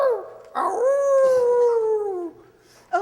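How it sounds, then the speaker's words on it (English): A dog crouched before a dower chest lets out a long, loud, close howl that slides slowly downward in pitch, preceded by a brief whimper and followed by another short yelp. "her dog is crouched in front of the dower chest, howling"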